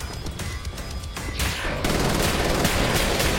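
Sustained gunfire from armed enemies in a video game, a dense continuous rattle of rapid shots that grows louder partway through, with no talking.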